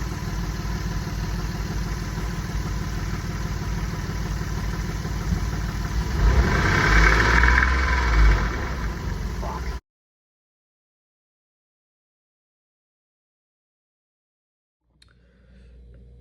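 Car engine, warmed up to temperature and running with its drive belt removed, idles steadily and loudly, briefly rises in pitch, then is abruptly cut off into silence before faint noise returns.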